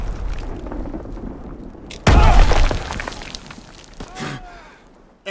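A carpet bombing strike in Call of Duty: WWII lands as a sudden loud, close blast followed by a long rumbling, crackling decay, with a second, smaller burst near the end and distant battle noise before it.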